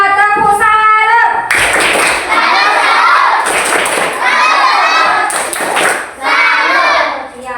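Schoolchildren in a Christian religious education class clap in unison after a group presentation, loud close bursts of applause mixed with shouts and cheers, with a voice speaking briefly at the start.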